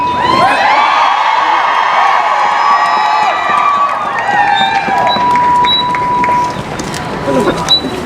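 Crowd at a women's anniversary march in Edmonton cheering, whooping and yelling, a dense sustained roar of many voices with shrill high shouts rising and falling, loud throughout and briefly dipping near the end.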